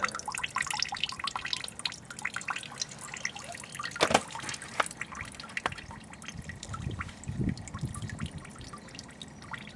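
Coolant drains from the radiator drain of a Jeep Wrangler TJ, a faint close trickle with scattered drips and small splashes running throughout.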